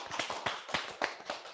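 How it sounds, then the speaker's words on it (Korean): A small audience at a lecture on waste and carbon neutrality claps briefly, a handful of distinct, close hand claps in an uneven rhythm with no talk over them. "박수 좀 부탁드리겠습니다"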